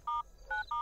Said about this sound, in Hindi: हरिया के महारानी को फोन लगाओ